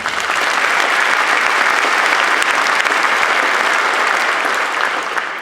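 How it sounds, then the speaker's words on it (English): Loud, continuous applause from a large audience at a 2015 school convocation, an even, full roar of clapping with no break from start to finish. "Let's give both of them a round of applause."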